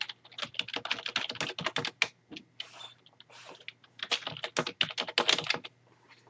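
Rapid bursts of keystrokes tap on a computer keyboard as a form is filled in, close and clear, with a short pause midway before the typing resumes.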